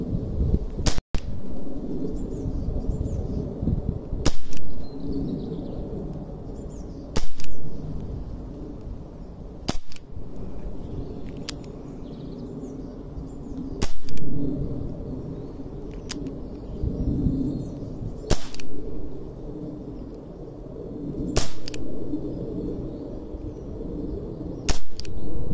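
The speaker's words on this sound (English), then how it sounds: "Just going to try and get a few shots across it just to see what we're getting on the chrono." Walther CP88 CO2 air pistol firing shots across a chronograph: roughly a dozen sharp, loud cracks spaced a few seconds apart, with quiet handling noise and faint room ambience between them.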